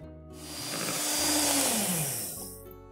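An electric mixer whirs through cake batter with sugar for a brevidade sponge, its motor swelling loud and shifting pitch over a few seconds before easing off.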